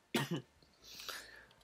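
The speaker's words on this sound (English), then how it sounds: "I just can't get rid of this cough" A dry cough from someone narrating an NBA 2K17 game: two quick, close, fairly loud bursts followed by a softer breathy exhale.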